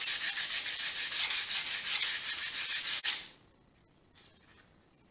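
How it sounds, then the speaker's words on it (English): A wooden barrel stave is sanded with 80-grit paper in brisk rhythmic strokes, a close, bright rasping scrub for about three seconds that stops abruptly, followed by near quiet with a faint rustle. "so now what I have to do is sand this off"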